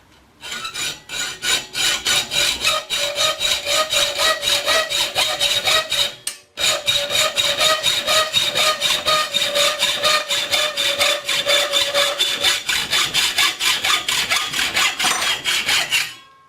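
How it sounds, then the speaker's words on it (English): Hacksaw cutting through a workpiece with steady, rapid back-and-forth rasping strokes, loud and close, with a brief pause near the middle before the sawing resumes at the same even rhythm until it stops. "we're going to go ahead and hacksaw these two here"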